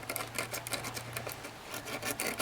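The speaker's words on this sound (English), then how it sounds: "Use some sandpaper, fold it in half, and put it between these terminals" Folded sandpaper rasps back and forth in quick, rhythmic strokes against the terminals of a Ford power window switch, close and fairly quiet with no voice.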